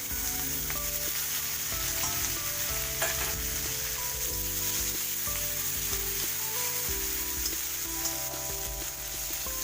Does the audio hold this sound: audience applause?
no